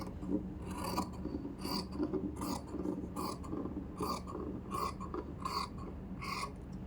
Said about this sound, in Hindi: इस तरह से हमने कटिंग कर दी।